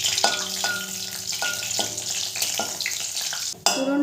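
Whole cumin seeds and two bay leaves sizzle steadily in hot white oil in a kadai, with a few stirring scrapes and a louder burst near the end.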